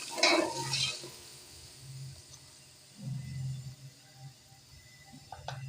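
Tomato and ginger paste with lemon juice frying in a pot for mixed dal, faint sizzling broken by several scraping stirs of a spoon and a light metallic clink near the end.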